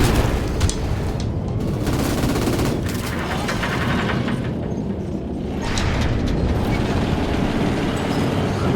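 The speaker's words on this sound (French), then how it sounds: "Oui, aïe, aïe, aïe, la grenade." A grenade blast in Call of Duty 4 amid a dense, loud barrage of gunfire and booming explosions that continues throughout the firefight.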